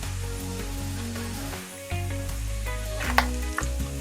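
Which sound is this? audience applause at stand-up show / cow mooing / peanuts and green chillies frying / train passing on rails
peanuts and green chillies frying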